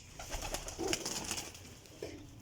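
Pigeons at a loft in Sarai Alamgir, Jhelum, coo softly and faintly at close range, with a few brief low calls over a light background hiss and no voices.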